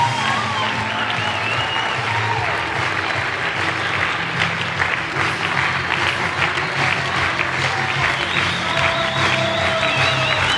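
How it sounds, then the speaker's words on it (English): Audience at a training event in a resort venue applauds as a speaker is introduced, a loud, sustained burst of clapping with some cheering mixed in. "So please, a round of applause for Mark Dale."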